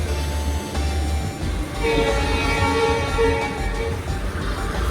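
A train rumbles steadily past at close range, a loud continuous roar with a low rolling hum and some metallic ringing, heard during a journey to Goa with no clear talk.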